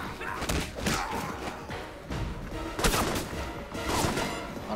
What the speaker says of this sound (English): Not a very big explosion radius either.